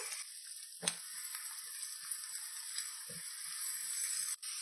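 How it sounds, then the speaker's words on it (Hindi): Two onions frying toward brown in oil for aloo keema, a faint steady hiss of sizzling with a few soft clicks and knocks, close but quiet, with no talk. "अब हम इसमें 2 अदद प्याज डालेंगे। प्याज को हम ब्राउन करेंगे।"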